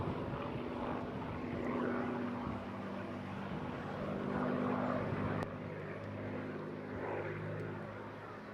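A Spitfire fighter flies over at the Eastbourne International Airshow, its propeller engine giving a steady, rumbling drone that rises and falls slightly as it passes at moderate distance.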